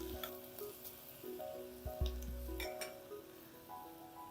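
Onions frying in a pan for street-style pav bhaji give a soft steady sizzle, with a few metallic clinks and scrapes of a spoon against the pan partway through, and no one talking.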